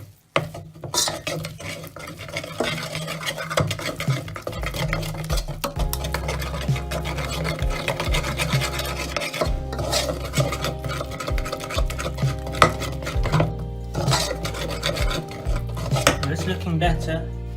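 Unsalted butter whisked in a pan for homemade mac and cheese, a fast continuous metallic clatter of whisk against pan close up, with occasional sharper knocks.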